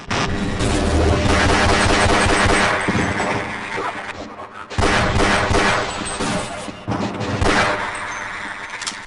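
Pistol rapid-firing in Half-Life: Blue Shift, a Glock sending out a dense, loud burst of gunfire with short pauses and renewed volleys, crowded with game noise and no voices.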